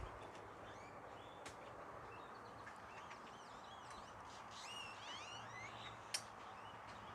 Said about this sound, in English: There's a ton of birds out. You may be able to hear them.